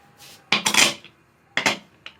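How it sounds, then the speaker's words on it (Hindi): A pressure cooker whistle being fitted onto the lid of a cooker holding chicken and potatoes, giving a few close metallic clinks and clatters in quick bursts, no talking. "अभी हम इस पे सीटी लगाते हैं कुकर पे"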